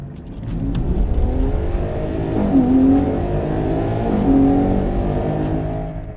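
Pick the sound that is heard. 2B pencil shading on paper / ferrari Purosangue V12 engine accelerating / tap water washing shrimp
ferrari Purosangue V12 engine accelerating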